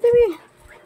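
A single short, high-pitched dog whimper, close and fairly loud, sliding downward before fading into quiet.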